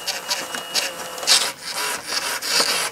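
A Billy the Big Mouth Bass singing fish toy flapping its tail, a series of short mechanical rubbing, whirring and clicking bursts from its actuator, close and moderately loud.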